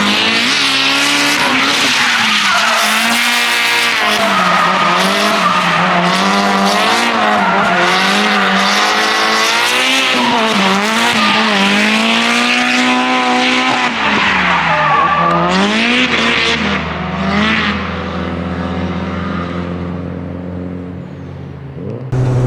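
A Toyota Cresta lapping Nikko Circuit held in third gear, its tires squealing loudly and continuously through corners while the engine note rises and falls close by, easing off toward the end.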